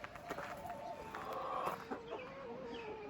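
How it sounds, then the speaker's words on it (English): Several chickens cluck and murmur close by, in short irregular bursts over a soft outdoor background, with no one talking. "Guess they got new chickens."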